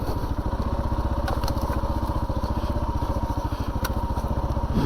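A 2022 Kawasaki KLR 650 rolls slowly in first gear on a single-track trail, its single-cylinder engine thumping in a steady, fast, even rhythm close by, with faint crackle over the continuous drone.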